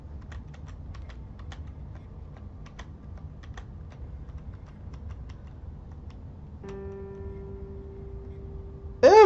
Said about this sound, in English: Inadvertently touch the keyboard.